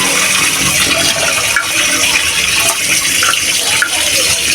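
Meat being rinsed under a running kitchen tap, a steady loud rush of water with faint splashing throughout, no talk.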